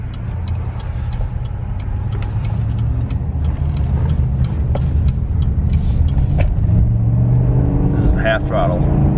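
A loud LS V8 car engine idles with a deep, steady rumble, rising slightly as it revs at partial throttle, with faint voices nearby.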